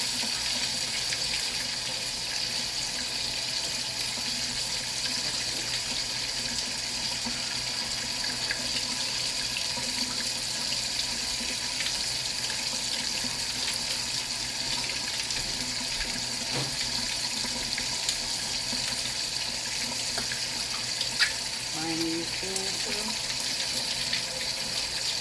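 A kitchen tap runs steadily into a sink as pork chops are rinsed for frying, a continuous close hiss of flowing water lasting throughout without talk.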